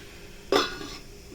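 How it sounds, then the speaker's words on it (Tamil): An idli pot and its plates are set down on a kitchen stove, giving one short, fairly close metallic clatter of cookware. "ஸ்டவ் பற்றி வச்சு இட்லி பாத்திரம் வச்சு இட்லி தட்டை வச்சு வேக வச்சிடலாம்"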